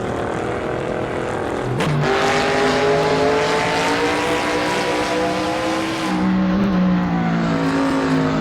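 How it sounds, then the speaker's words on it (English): A muscle car in a racing video game revs its engine with turbo boost under slipping tires, a loud continuous engine drone that climbs steadily in pitch over several seconds, with a tire squeal near the start. "it's winding slow due to the fact that it's not slipping and I'm not using enough turbo to push the car forward"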